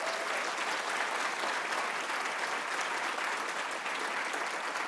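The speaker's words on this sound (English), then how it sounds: "How about a round of applause for her and a welcome?" Audience applause at a 2018 provost's convocation address, a dense, steady wash of many hands clapping that stays loud and even throughout, with no voices on top.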